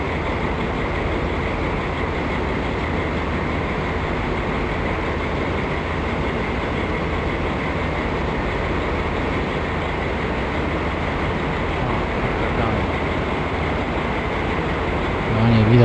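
A freight train rumbles past in a Microsoft Train Simulator game on the Białogard to Runowo Pomorskie line, set in the 1980s, giving a steady, loud rolling drone with faint wheel clatter that lasts throughout.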